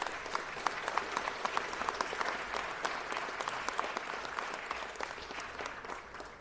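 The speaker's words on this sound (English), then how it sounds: "I want to ask all of you to give a rousing round of applause to the Baldwin" A city council meeting audience gives a rousing round of applause, sustained clapping for several seconds with crisp individual claps popping out of the dense patter before it begins to thin near the end.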